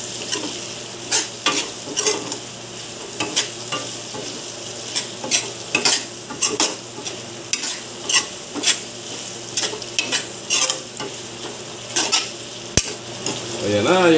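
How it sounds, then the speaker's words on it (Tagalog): Pork adobo with tausi sizzles in a pan while a utensil stirs it, giving rhythmic scraping strokes about every second over a continuous frying hiss. "Kunting halo lang."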